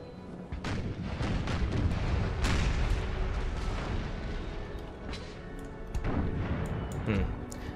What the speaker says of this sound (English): I guess only the mortars have really the effective range now.